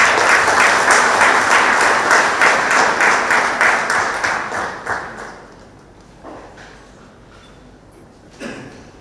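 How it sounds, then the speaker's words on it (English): Loud, dense audience applause at an office inauguration event celebrating 25 years, steady for about five seconds before tapering off to sparse scattered claps and near quiet. "you should give yourselves a big round of applause"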